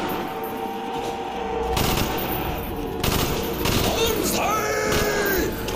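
Commando assault rifle firing in Black Ops zombies on the Shi no Numa map, rapid bursts of automatic fire with a pause between volleys, loud amid other game sounds and a voice.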